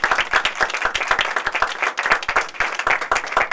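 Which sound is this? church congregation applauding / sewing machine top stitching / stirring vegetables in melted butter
church congregation applauding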